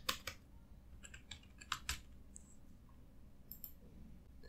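Typing on a computer keyboard in short irregular bursts of close, crisp key clicks, with pauses between bursts and a quiet room background.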